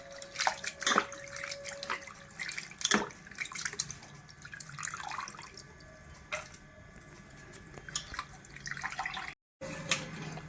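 Water splashes and trickles as tengra fish are rinsed by hand in a bowl, with quiet, irregular drips and sloshes, a few sharper splashes and a brief silent gap.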